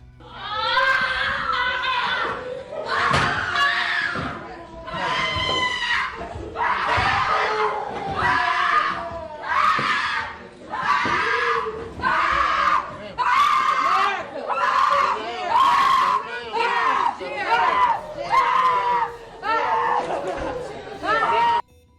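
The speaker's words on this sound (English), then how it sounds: "the two defendants collapsed as screams of their family members echoed through the courtroom" Family members scream and wail loudly in a courtroom after a verdict, the cries rising in repeated bursts over crowded chatter and sobbing and continuing without pause.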